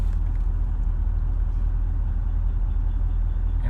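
A C7 Corvette sits running in a quiet drive mode, its engine a low, steady, even rumble with no revving, close by and continuous throughout.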